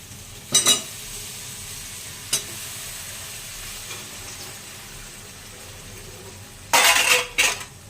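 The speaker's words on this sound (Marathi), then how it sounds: "त्याला आपण ढवळून घेऊया तेलामध्ये छानपैकी" Potatoes stirred in hot oil and spice masala in a pan, with a steady soft sizzle and a few sharp utensil scrapes and clinks against the pan, close and fairly quiet.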